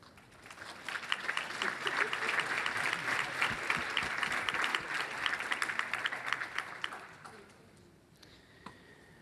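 Sustained applause from a room audience welcoming a new expert panel at a patient community day, dense clapping of many hands that fades out near the end.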